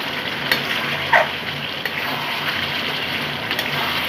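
Chicken curry browning in a pan with yogurt and no added water, giving a steady close sizzle with soft stirring scrapes and a couple of brief clinks, no talking.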